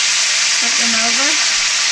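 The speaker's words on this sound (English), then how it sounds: "we're going to fry this up on 2 minutes on this other side" Pork chops frying in a pan for smothered pork chops, a loud steady sizzle that fills the whole moment, with a brief tonal squeak or voice-like sound partway through.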